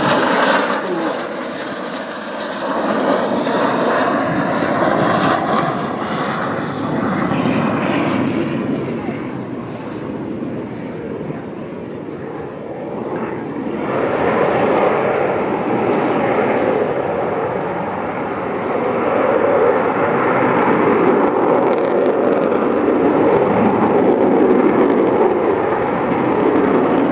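An Avro Vulcan B2 XH558 bomber makes a low pass with its gear down at an air display: a long, loud, rumbling jet roar that swells and holds for over twenty seconds, with commentary and crowd noise mixed in.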